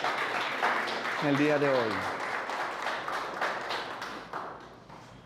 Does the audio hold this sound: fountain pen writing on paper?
no